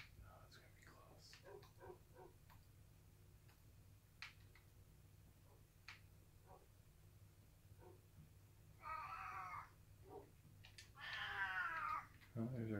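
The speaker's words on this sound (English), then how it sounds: "Oh, there's our cat saying hi." A house cat meows twice near the end, a short call followed by a longer drawn-out one, fairly close, amid quiet room noise and scattered small taps and clicks.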